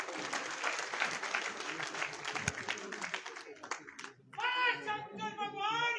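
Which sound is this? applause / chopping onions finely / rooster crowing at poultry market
applause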